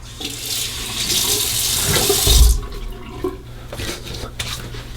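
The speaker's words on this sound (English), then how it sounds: "rinse that off with cold water" Tap water runs loudly into a sink with splashing rinse sounds for a couple of seconds, then shuts off, leaving faint drips and handling noises.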